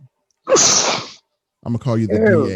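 A single sharp, loud sneeze bursts out during an online Zoom meeting, followed after a short pause by a person speaking.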